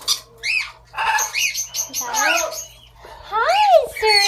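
A pet parrot lets out loud, close squawks and rising screechy calls in short bursts, with people talking to it softly in between.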